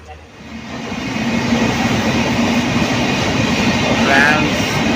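A train near Kesinga gives a loud, close, continuous rumble that builds quickly at the start, then holds steady with faint rattling.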